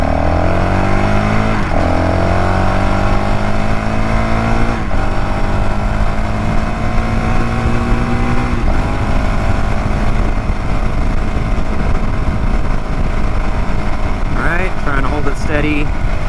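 A car cruises on a road at 55 miles per hour, giving a loud, steady drone of engine and road noise with faint shifting tones and no break throughout.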